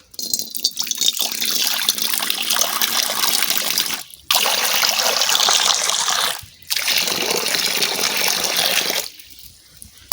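Water gushes loudly into a pot for boiling jackfruit, poured in three long bursts with brief pauses between, close and steady, with no talk.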